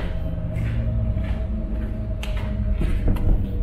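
An old door in a deserted house in Semarang creaks and rattles as someone tries to open it. The creaks are faint and irregular under a steady low room hum, with a few sharper clicks near the end.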